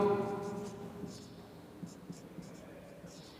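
Faint scratches of writing on a board tick out irregularly in a classroom after a voice trails off at the start.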